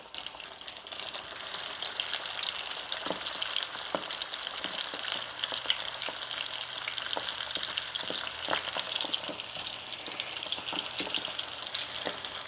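Chicken pieces fry in hot oil for extra-crunchy fried chicken, a steady close sizzle and bubbling crackle throughout with a few faint pops, no talking.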